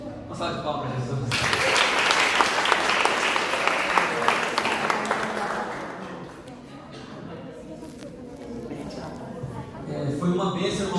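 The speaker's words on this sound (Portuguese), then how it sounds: "Uma salva de palmas para Jesus." Congregation applauding in a church after a baptism service, a burst of loud clapping from the crowd that peaks early and gradually fades, with voices speaking before and after.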